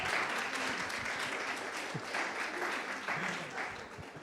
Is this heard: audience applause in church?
yes